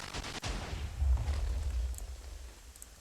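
In a video game, a fusion cannon shot explodes as a muffled, low rumbling boom that swells and then fades out. It is fairly faint and has no talk over it.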